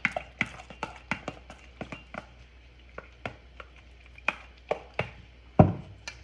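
Ricotta being stirred with an egg and Italian seasoning for a slow-cooker lasagna, giving an irregular run of sharp, close taps and clicks against the bowl with short pauses, and no talk.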